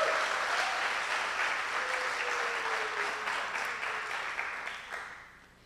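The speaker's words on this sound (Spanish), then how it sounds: "Denle un buen aplauso a Dios, a ver si es cierto." A church congregation applauds God in a sustained, full round of many hands clapping, with a faint tonal sound gliding beneath it, gradually tapering off near the end.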